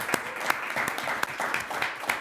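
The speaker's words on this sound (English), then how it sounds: "we will thank them by a clap" Applause from attendees at a city council meeting, a steady patter of many hands clapping at moderate distance for a couple of seconds, with a few sharper claps standing out.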